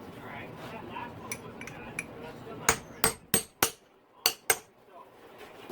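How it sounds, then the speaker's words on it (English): A metal punch is struck with a hammer during a full Yamaha YZ450F motor rebuild, light taps first, then six sharp ringing metallic hits in quick succession over a soft background hum. "Now I'll use my punch."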